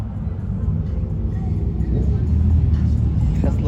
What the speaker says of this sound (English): American Muscle sounds good